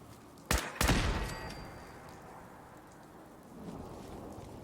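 A Fallout 4 machine gun turret lets off two loud, close bursts of fire in quick succession that ring out and fade, then the scene settles into a low rumbling hush.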